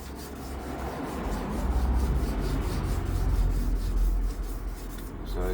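Sandpaper rubbing in steady back-and-forth cross strokes during a second sanding pass before polishing, a close, continuous rasping scratch.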